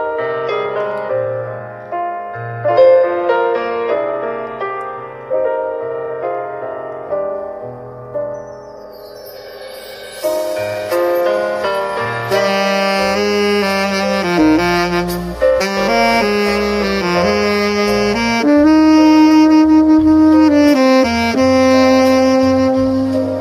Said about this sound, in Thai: วันนี้มาลองเสียงแซกเทนเนอร์คอนรุ่น 10M นะครับ